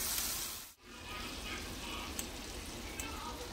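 Onion, garlic and diced carrots frying in butter in a pan, a soft continuous sizzle at low level with a brief dip and a couple of faint clicks.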